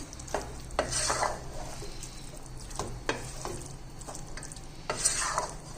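Crispy potatoes are stirred and tossed through honey chilli sauce in a pan, giving a quiet sizzle under repeated scraping and clinking strokes of a spoon against the pan, spaced irregularly.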